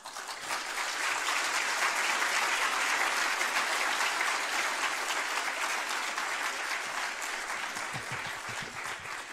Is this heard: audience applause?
yes